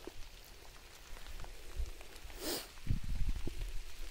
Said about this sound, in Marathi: तुम्ही पाहू शकता पाऊस चालू आहे